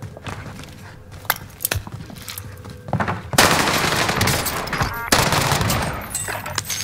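Gunfire from Call of Duty Warzone on Rebirth Island: scattered single shots and clicks give way to dense, loud automatic bursts that roll on almost continuously.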